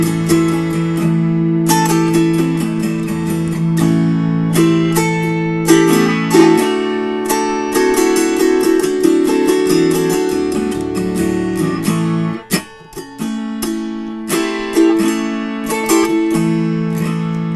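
Autoharp played with open chording, tipped up and down on a special Prizim setup: dense, sustained strummed chords ring continuously with rhythmic strokes, loud and close, one brief dip near the end before the strumming resumes.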